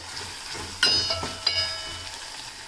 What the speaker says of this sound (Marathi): जेव्हापर्यंत लसणाचा रंग चेंज होत नाही ना तिथपर्यंत आपल्याला हे परतवून घ्यायचं आहे